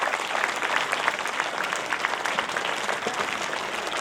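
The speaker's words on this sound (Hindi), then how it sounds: "जरा जोरदार तालियां बजा दीजिए" Loud applause from the audience at a school function, dense and steady crowd clapping throughout.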